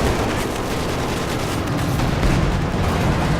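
Tank gunfire in the video game Company of Heroes 2 comes through as a dense, loud wall of rumbling battle noise and blasts, continuous across the short stretch with no voices.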